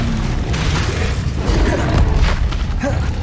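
Spell blasts in Hogwarts Legacy gameplay, booming fire and force explosions rumbling loudly and continuously, with bursts swelling over a dense, low roar of combat noise.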